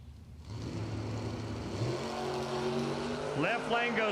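Hot rod drag race cars, including a 55 Chevrolet, idle and rumble at the line with a steady engine drone, then revving rises sharply near the end.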